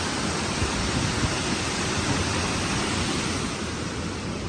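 Heavy, steady roar of water pouring through the opened gates of Nizamsagar dam, a dense unbroken rush filling the whole span without pause or talking.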